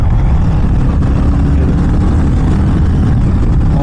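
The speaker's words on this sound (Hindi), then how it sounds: "क्या ज़बरदस्त साउंड है इस बाइक की भाई" Deep, bassy engine and exhaust rumble of a Hero Mavrick 440 motorcycle, loud and close, holding a steady low throb throughout with no talk over it.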